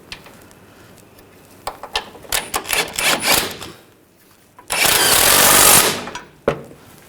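A power tool tightens control arm bolts on a 2014-2018 GMC Sierra 1500, giving close, loud bursts of rapid rattling hammering, a choppy run of hits followed by one longer sustained burst and a final short rap.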